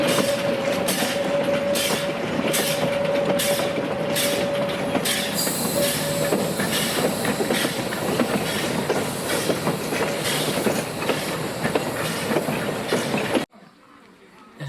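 A steam tank locomotive, a 2-6-0 tank built by Haynes St. Pierre in 1920, pulls into Noyelles on the Baie de Somme line with its train. Wheels squeal and carriages rumble loudly and steadily, with regular rhythmic clatter, and the sound cuts off abruptly near the end.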